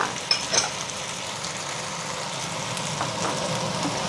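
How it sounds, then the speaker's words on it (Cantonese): Potato pieces frying in a pan for a turmeric chicken-wing braise, producing a soft, continuous sizzle with a couple of faint scrapes near the start. "而家煎緊啲薯仔，薯仔咧要煎一煎佢先會香"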